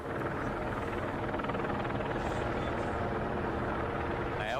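A county sheriff's helicopter circling 400 to 500 feet overhead drones steadily, its rotor thumping continuously and loudly throughout with no pauses.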